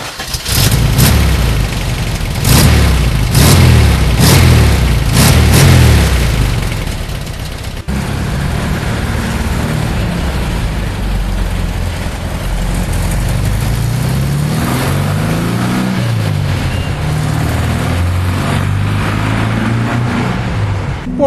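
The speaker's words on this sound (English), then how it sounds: "a classic machine with the fantastic sound of the air-cooled engine" The air-cooled 1.6-liter engine of a 1969 Porsche 356 A blips and revs several times in quick bursts, then settles into a steady running drone, loud and close.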